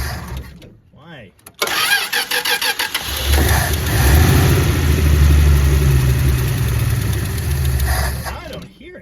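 A 1962 Dodge Lancer slant six engine with a bad muffler cranks with rapid starter clatter, fires up and runs in a rough, throaty idle that swells a little, close by, with a voice speaking over it.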